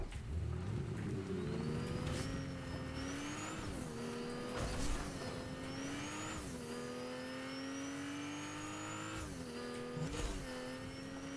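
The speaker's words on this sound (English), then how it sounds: "That's a bit of drifting." A car drifting in Fortnite, its engine revving up and down in repeated rising swells with some tire scrub, loud and continuous, with no voices.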